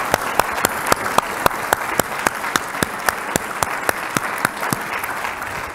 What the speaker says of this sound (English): So let's give you guys a round of applause.